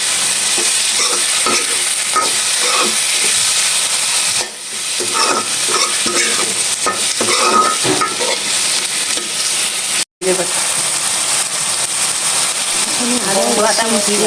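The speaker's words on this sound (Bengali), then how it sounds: "জিরে বাটাটা হচ্ছে বাটা মশলা দিয়ে চিংড়ি মাছটা ভালো করে ভাজা হবে" Shrimp coated in ground cumin paste frying and being stirred in a pan, giving a steady, close sizzle with scraping and clatter throughout and a brief dropout partway.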